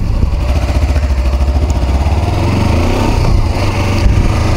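Kawasaki Versys X-300 motorcycle engine running close by, a steady buzzing light-engine note with quick blips of revving, no voices over it.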